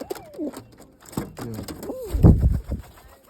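Soft coos from domestic pigeons in a home pigeon setup rise and fall in a few separate calls, close by, with a burst of wooden knocking and fluttering partway through.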